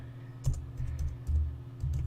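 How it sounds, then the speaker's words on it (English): Sparse, uneven keystrokes tapped out two-fingered on a computer keyboard, close and fairly quiet, with irregular gaps between clicks and no talking. "I'm kind of typing with like 2 fingers because I have to reach around my microphone"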